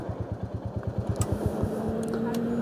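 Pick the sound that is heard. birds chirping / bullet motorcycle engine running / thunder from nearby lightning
bullet motorcycle engine running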